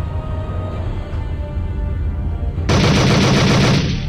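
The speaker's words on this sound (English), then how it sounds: "we're definitely shooting at them" Sustained rapid gunfire erupts over a constant low rumble of engines in an indie space game, firing at alien ships; the continuous burst starts abruptly partway through and runs loud until near the end.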